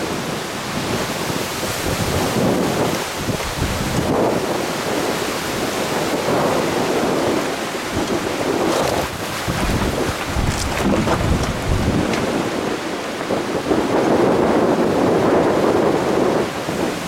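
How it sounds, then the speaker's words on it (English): Strong wind buffets the microphone continuously during a 4x4 drive on a rocky track in the Flinders Ranges, a loud, rough roar with surging gusts and no talking. "It was crazy windy, and it was affecting the vehicle a little bit"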